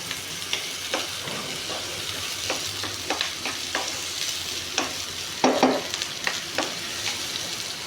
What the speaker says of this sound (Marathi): आपण हे सगळे वेजेस हाय फ्लेमवरती गॅसवरती आपण सॉटे करणार आहोत।